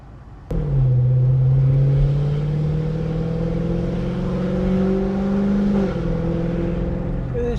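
A car starting up abruptly, then accelerating and revving with engine pitch rising steadily through the gears, loud and close, with a shift near the end.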